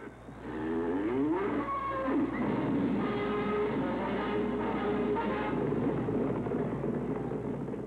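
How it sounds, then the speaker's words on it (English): Cattle lowing and mooing in a dense, continuous herd din from the Astros' stadium scoreboard stampede effect, loud and sustained throughout with layered bellows and no talking. "The Astros used the board to educate, entertain, and stampede the cattle"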